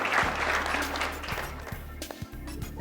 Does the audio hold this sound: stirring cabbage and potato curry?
no